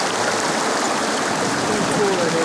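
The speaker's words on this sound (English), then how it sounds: "You guys see the face right there in the waterfall?" A steady rushing waterfall in Hellblade: Senua's Sacrifice VR, an even, continuous wash of falling water at moderate loudness with no break.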